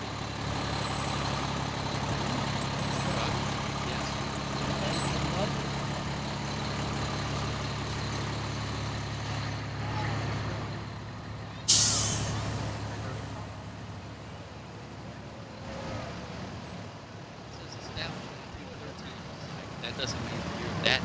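A fire department truck rolls past in a Memorial Day parade in Royal Oak, Michigan, its engine rumbling steadily with a sharp hiss of air brakes partway through, amid crowd noise and traffic.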